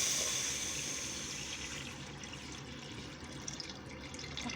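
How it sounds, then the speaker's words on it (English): Water pours into a pot for chicken soup with chicken bones and meat, making a steady splashing, filling rush that starts loudest and gradually softens, with a few small drips and clinks near the end. "But I want to add the water first."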